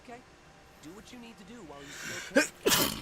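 A sneeze bursts out near the end, loud and close, following a snort-like sound and a stretch of speech, with gameplay music underneath.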